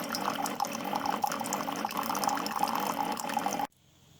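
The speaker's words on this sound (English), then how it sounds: "You see water's coming out to clean out the tubing and all the little parts in there." A Keurig 2.0 K575 coffee maker runs a cleaning cycle, pouring a steady stream of water into a 12-ounce mug with a constant splashing gurgle that stops abruptly near the end.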